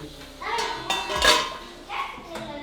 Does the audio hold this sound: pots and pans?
yes